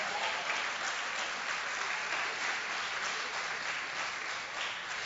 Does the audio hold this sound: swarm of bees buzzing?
no